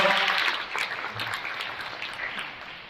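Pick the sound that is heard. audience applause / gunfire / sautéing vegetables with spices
audience applause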